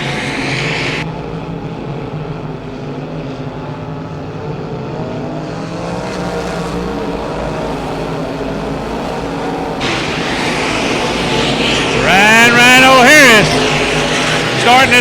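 Race cars roar around an oval short track at Battleground Speedway late in a race, a steady loud engine drone with a car swelling past near the end, while an announcer calls the action over it.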